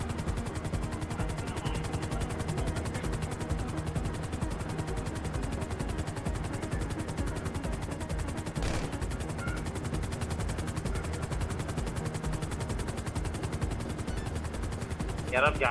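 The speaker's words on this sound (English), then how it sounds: "this is a fucking police chopper." A police helicopter in the GTA video game drones steadily with rapid gunfire chattering throughout, loud and dense, with a sharp burst midway and voices over the din.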